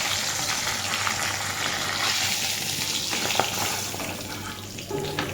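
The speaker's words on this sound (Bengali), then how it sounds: "এই যে দেখতে পাচ্ছ মাছ ভাজা তেল" Rohu fish frying in hot oil in a pan, a steady dense sizzle with crackling pops and occasional stirring scrapes, close and loud throughout with no voices.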